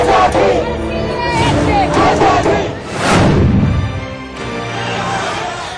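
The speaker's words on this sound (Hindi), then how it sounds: "बेकाबू भीड़ की ये तस्वीरें गुजरात के अहमदाबाद की हैं, जहां प्रदर्शनकारियों ने जमकर बवाल काटा" An unruly protest crowd in Ahmedabad, Gujarat shouts and roars continuously, loud and dense, with many overlapping voices rising and falling in waves.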